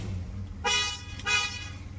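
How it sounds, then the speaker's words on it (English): Horn on a restored 1949 Chevy 3100 pickup with a 350 V8, sounding two short honks close by, about half a second apart. No other sound intrudes, only faint background hum. "the horn works."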